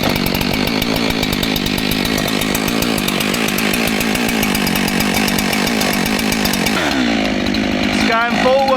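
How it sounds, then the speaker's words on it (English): A Husqvarna 372 XP chainsaw runs loud and close while cutting trees along a fence line, with a steady high-revving buzz; near the end it drops off as a man calls out. "Standard setup, electric winch, snatch block, Husqvarna 372 XP."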